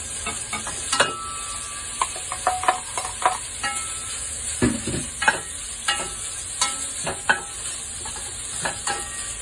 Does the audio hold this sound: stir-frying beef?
yes